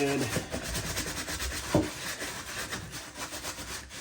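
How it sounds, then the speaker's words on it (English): A leather boot scrubbed with a brush: rhythmic rasping strokes close up, with faint speech mixed in briefly. "Maybe just give it one more scrub, one quick scrub."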